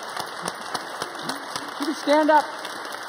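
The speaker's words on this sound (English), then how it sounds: "Round of applause." Audience applause, a steady patter of clapping with a voice speaking over it and a brief burst of cheering near the end.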